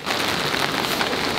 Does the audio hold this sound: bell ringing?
no